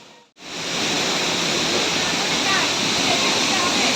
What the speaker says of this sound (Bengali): প্রচণ্ড আওয়াজ হচ্ছে আর প্রচণ্ড জলের গতি